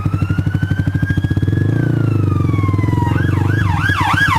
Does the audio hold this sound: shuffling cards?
no